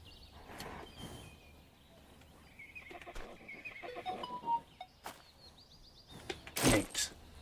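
In the Farmers Life farming game, a horse gives a few short whinnies and snorts, mixed with hoof clip-clops and a sharp close clatter near the end, against quiet background sounds.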